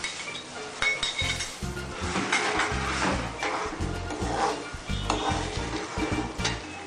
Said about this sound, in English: Mix well and cook it for around 30 seconds.